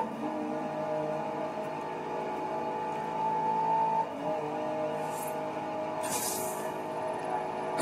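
A 2019 Hennessy Velociraptor 6x6 truck engine hums in the racing game Forza Horizon 4, a steady moderate tonal drone that rises in pitch briefly midway, with a few faint hissy bursts toward the end.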